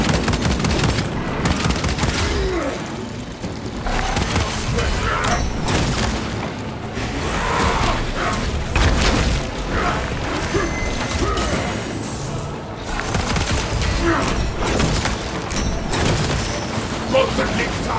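Bolter gunfire and explosions in Warhammer 40k Space Marine 2 keep up a dense, loud barrage of rapid shots, booms and mechanical clatter with no letup, while voices shout over the din.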